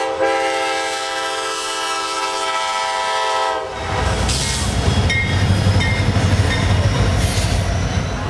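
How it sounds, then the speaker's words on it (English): A CSX freight train passes a road crossing, its horn sounding a long sustained chord before the rumble and clatter of wagons and wheels take over, loud and close. "And here comes a CSX train that came through before we tied up the crossing."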